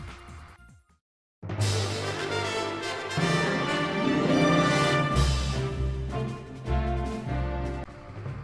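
Bright, full orchestral level music from Super Mario Galaxy swells in after a brief pause, with brassy melody over driving low rhythm, loud and continuous.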